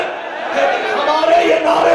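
At a majlis gathering in Karachi, a crowd shouts a religious slogan back in unison, a brief loud massed chant of many voices rising after a short pause.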